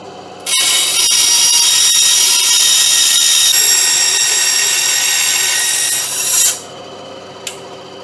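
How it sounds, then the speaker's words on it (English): A bandsaw cuts side tray pieces for a homemade fishing seat box, a loud steady rasping whine that runs without a break for about six seconds and then stops abruptly, followed by near silence and one small click. "I'm just going to take this across to the bandsaw and cut it over there"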